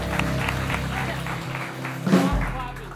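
A television game show audience claps in a dense burst of applause, loud and close, with a host's voice talking over it and a swell of clapping near the end.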